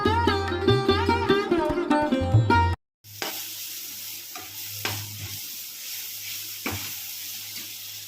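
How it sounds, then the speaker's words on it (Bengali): After a brief bit of music, onion, ginger, garlic and tomato sizzle in a pan for an egg dish, a low steady frying hiss with occasional clinks and scrapes of stirring. "পেঁয়াজ আদা রসুন টমেটো সবগুলো একটু ভাজা ভাজা করে নিয়ে"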